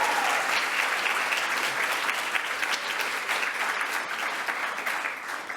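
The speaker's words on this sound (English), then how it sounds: "another round of applause for our 7 speakers" Sustained audience applause in a hall for seven young speakers at a government session, a dense steady wash of clapping throughout with no talk over it.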